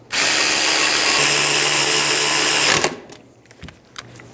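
A power tool snugs down caliper bracket bolts on a 2010-2014 Subaru Outback during a rear brake job, a loud continuous whir lasting nearly three seconds before stopping abruptly, followed by faint clinks and handling noises.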